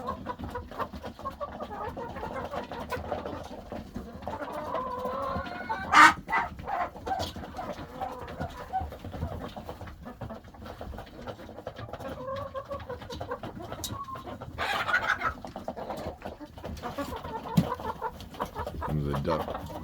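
Chickens cluck and murmur in a yard near ducks, a scattered run of soft clucks and short squawks, close and moderately loud, with a person talking now and then over them.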